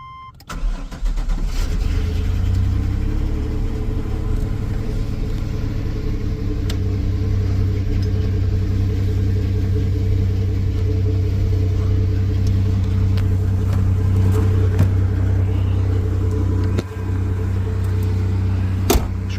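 A Chevrolet S10 with Holley Sniper fuel injection drives off soon after a cold start, its engine giving a steady, loud, deep rumble that holds without a break throughout.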